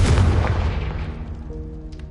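A Confringo fire spell explodes in a video game, a sharp booming blast with a deep low-end rumble that decays gradually over a couple of seconds, alone without speech.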